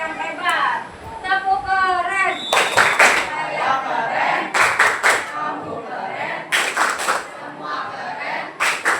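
Schoolchildren perform a rhythmic clapping chant in a classroom, several bursts of loud group claps alternating with children's voices chanting, with a teacher's speech at the start.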